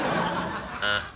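A short, loud electronic quiz buzzer blares near the end, following a moment of chatter and light laughter.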